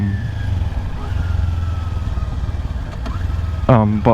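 A Honda Rebel motorcycle on city streets gives a steady low engine rumble throughout, with a voice speaking briefly near the end.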